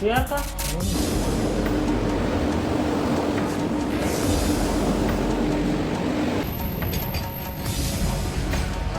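A train rumbles past close by, a steady loud roar of wheels and engine with a long horn-like tone, the noise shifting as cars go by.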